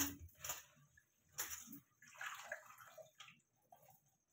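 Pathri leafy greens being washed in water by hand, with faint intermittent splashes and swishing, a few sharper sloshes and drips, quiet and close.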